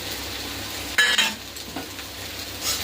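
Fried fish with green chilli and tomato sizzling in a pan, a soft continuous hiss broken by a brief clatter of utensil stirring near the start.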